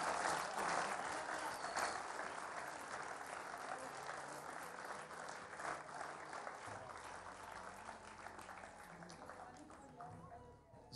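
Studio audience on a televised Ramadan iftar show, standing and applauding in a long, dense, roaring wash of clapping mixed with crowd noise and some voices, fading slightly toward the end.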